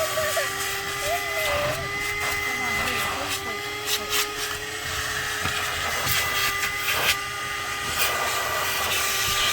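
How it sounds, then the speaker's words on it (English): A vacuum cleaner working inside a car gives a steady, droning motor whine with airy hiss, punctuated by brief knocks and clatters as the nozzle moves, at a moderate level throughout. "Then after that I'm gonna follow it up by vacuuming."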